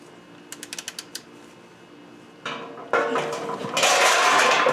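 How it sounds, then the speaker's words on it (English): A T45 Torx bit loosening the oil drain plug on a 2015 Audi A4, a quick series of light ratcheting clicks followed by louder scraping and clattering metal handling noises, close up with no talk. "To avoid stripping your drain plug, you just want to make sure to put some firm pressure and you loosen it."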